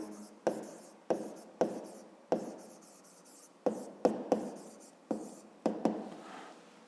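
A pen or pencil writing a number in a school notebook, close and quiet, with a series of distinct scratchy strokes and taps in an uneven rhythm, no talk.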